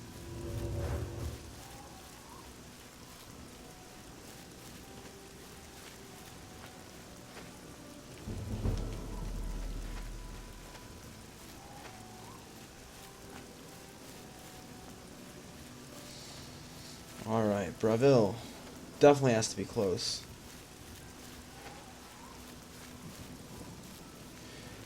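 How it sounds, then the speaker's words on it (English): Heavy rain falling at night in the video game Oblivion, a steady hiss with low thunder rumbles around the start and middle, while someone talks over it in short bursts. "if only we could get out of this rain. It's really coming down, but it sounds beautiful"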